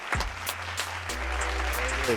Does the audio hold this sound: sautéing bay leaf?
no